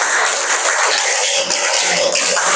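A classroom group of pupils and a teacher clapping quickly together in a counted pattern, a dense burst of close, loud hand claps with no talking.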